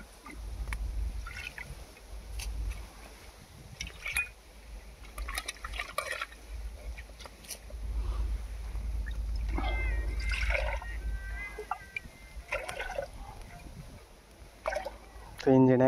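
Water poured into tea being made outdoors in a field: liquid splashes and trickles in bursts with a low, steady rumble underneath, close by, while people talk over it.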